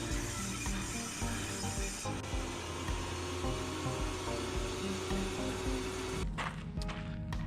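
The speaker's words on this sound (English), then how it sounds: "First thing we're going to do is cut this tongue and groove off." A power tool cuts the tongue and groove off a wooden board for canoe seats, giving a continuous loud whirring and grinding noise that shifts in tone near the end.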